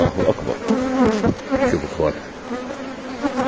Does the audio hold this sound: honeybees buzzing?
yes